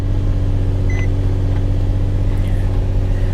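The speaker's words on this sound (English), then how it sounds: "Nissan 350Z Nismo, number 1272. Let's see if she runs." A Nissan 350Z Nismo engine idling steadily after starting, a loud, constant low rumble with faint beeps on top.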